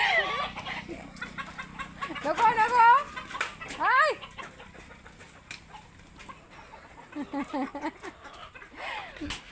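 A fighter-breed rooster lets out several clear clucks and squawks, fairly close and loud in places, with people talking in the background.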